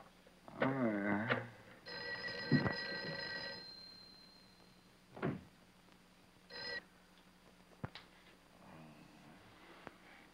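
A telephone in an old black-and-white horror film rings in a few short bursts and goes unanswered, with quiet gaps between the rings and faint knocks and movement around them.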